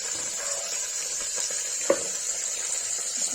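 Whole spices such as cloves, cardamom and cinnamon fry with turmeric and red chilli in a pan for Kashmiri-style kohlrabi, giving a steady close sizzle with one brief stir or clink, no talking.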